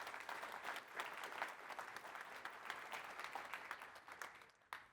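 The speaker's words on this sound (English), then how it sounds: "Big round of applause for our room sponsors." Conference audience applauding room sponsors, a steady, even spread of many hands clapping at moderate distance, quite faint overall, with no talking over it.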